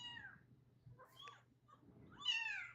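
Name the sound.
kitten meowing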